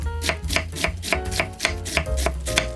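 Knife finely shredding cabbage on a cutting board: steady, close, rhythmic chops at about three per second, crisp and even, with no talking.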